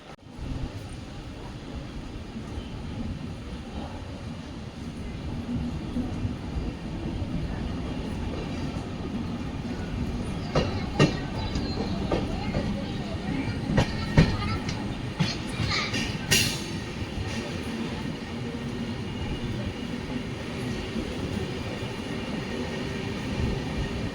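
The Hampi Express from Mysore to Hubballi rolls along with a continuous low rumble heard from inside a coach, broken by faint clanks and rattles, steady and moderately loud throughout.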